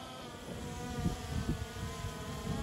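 A camera drone flies overhead during a Ford versus Honda Civic race, giving a steady insect-like buzzing whir that stays fairly constant and close, with no talk.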